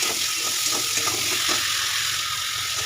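Rohu fish curry masala with salt fries in a pan while being stirred repeatedly, a dense steady sizzle with faint scraping strokes underneath.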